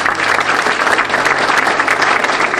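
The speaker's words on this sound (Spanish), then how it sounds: "Dele fuerte el aplauso a la palabra de Dios" A church congregation applauds loudly after a scripture reading, dense and sustained clapping from many people close by with no speech over it.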